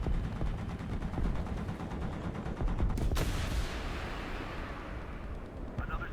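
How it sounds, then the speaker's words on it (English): An autocannon fires in rapid repeated bursts in a tank combat video game. The shots sound as a dense, heavy rumble under constant battle noise, with one sharp crack near the middle. "Autocannon."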